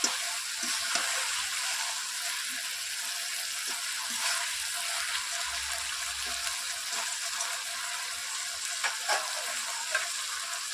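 Taro stolons simmering in their own released water in a covered pan, a soft steady sizzle and bubbling with faint occasional clicks, close and even throughout.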